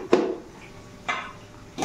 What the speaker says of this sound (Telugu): ఇప్పుడు వెల్లుల్లి వేస్తున్నాను.